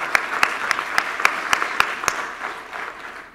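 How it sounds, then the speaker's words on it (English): Audience applause after a talk on HoloLens and Iristick augmented reality in agriculture, with a short burst of sharp, evenly spaced claps over a steady wash of clapping that fades toward the end. "Firstly, round of applause."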